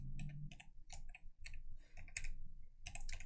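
Keyboard typing on a computer during a Unity car-physics coding session, with irregular bursts of close, crisp key clicks separated by short pauses.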